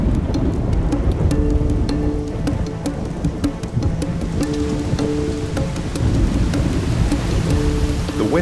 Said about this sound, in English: And heavy rain falls in blasting showers.